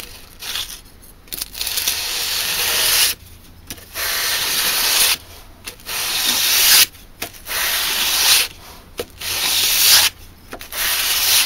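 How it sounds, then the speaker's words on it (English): Hand sanding a knife blade with 600 grit paper on a block: repeated rasping strokes in a steady back-and-forth rhythm, loud and close, separated by short pauses. "here's some 600 grit on a block"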